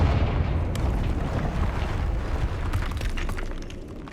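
A Confringo fire spell blasts in Hogwarts Legacy, a broad rumbling explosion with crackling bursts that rolls on loudly for several seconds before tapering off.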